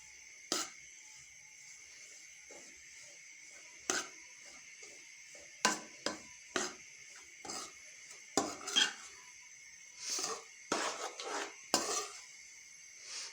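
Panjiri ingredients roasting in a pan over a low flame, heard as sparse clinks and scrapes of a utensil against the pan, quiet and close, with no talking.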